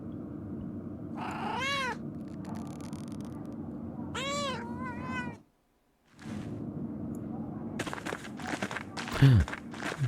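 A cat meows in the video game Pentiment, a few short, clear meows spaced apart over steady background ambience, with a brief silent gap and some rustling and footsteps near the end.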